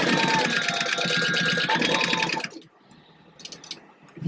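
A sewing machine stitches vinyl fabric for a purse, running in a dense, steady whir for about two and a half seconds before stopping, followed by quieter handling noises and a few faint clicks.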